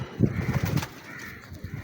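A big, sturdy pigeon gives a brief, low, throaty coo close by, a couple of soft pulses followed by quiet.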